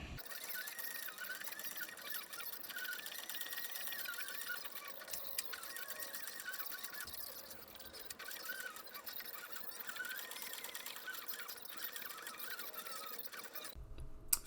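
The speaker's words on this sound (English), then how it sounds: "So we're ready for the old sewing machine." A sewing machine stitches a custom leather bag, running steadily with a rapid mechanical whir and clatter at low volume and no talking, before it cuts off abruptly near the end.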